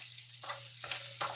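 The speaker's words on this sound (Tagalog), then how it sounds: "Gisa na po natin ang bawang." Garlic sautéing in a pan, a steady sizzle with a low hum underneath, broken by three quick scraping stirs at even intervals, close up and with no talk.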